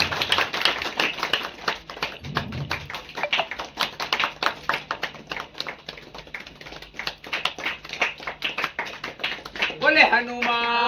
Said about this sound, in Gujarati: તાળીઓથી બતાવો।